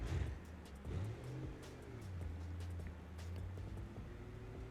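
A Duramax diesel truck engine in the BeamNG Drive game rumbles low while crawling off-road, its pitch rising and falling with the throttle, moderately close and without talking.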